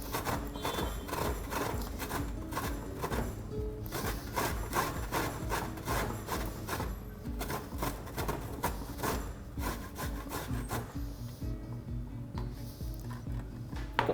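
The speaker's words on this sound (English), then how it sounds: "Going to grate the ginger and use one of the finer graters." Fresh ginger is rubbed over a fine grater in quick, repeated rasping strokes, a close, continuous rhythmic scraping with no talking.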